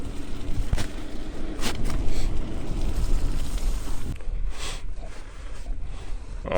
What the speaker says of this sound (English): there is a car behind me too